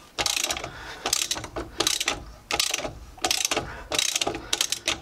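A ratcheting tool cracks off a locking wheel nut without its key, giving loud, close bursts of rapid clicking pawl ratchet strokes in an even repeating rhythm.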